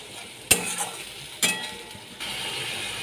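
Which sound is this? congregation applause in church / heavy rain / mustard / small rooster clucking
mustard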